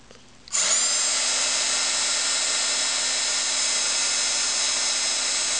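A handheld heat embossing gun switches on over a leaf coated with embossing powder, jumping from low background to a loud, steady blower whine with a fixed fan tone that holds to the end.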